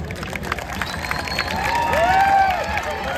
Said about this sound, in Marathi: सर्वांचे टाळ्या होऊ देत